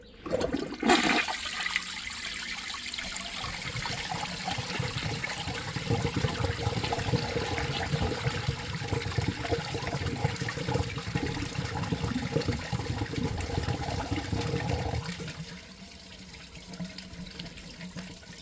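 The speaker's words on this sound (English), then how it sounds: "I sometimes wonder how these folks even survive with this toilet. It doesn't even flush out." A 1997 American Standard Savona one-piece toilet with a weak flush starts with a sharp click, then a long churning rush of water that drops to a quieter refill trickle near the end.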